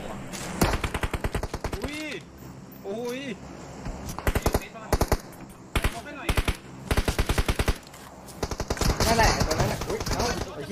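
Rapid bursts of automatic gunfire in PUBG Mobile crackle in quick volleys, with sharp single shots mixed in, while players talk over the shooting.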